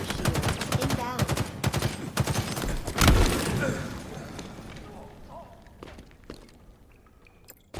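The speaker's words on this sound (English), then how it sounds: "I don't know if you hear the shots behind you." Gunfire in a Halo-style LiveFire Slayer multiplayer match, rapid bursts of shots crackling near and far behind a player who talks over them, with a loud blast around the middle and sparse distant shots as it quiets.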